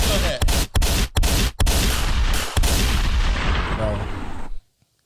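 A big gun fires a quick volley of heavy booming shots, several loud blasts in irregular succession, then a sustained roar that cuts off abruptly into silence.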